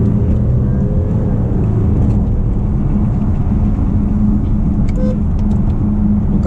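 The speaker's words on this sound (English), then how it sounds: "I'm going to put the car on sport for a bit and I'm going to rev the car." Audi A8L with a 3.0L diesel engine revving in sport mode, a steady loud drone of engine and road noise from inside the car with no talking.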